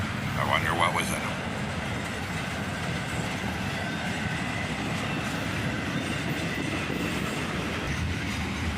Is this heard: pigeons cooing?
no